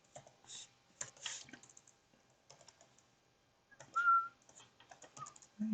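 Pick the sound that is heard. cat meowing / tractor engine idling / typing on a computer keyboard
typing on a computer keyboard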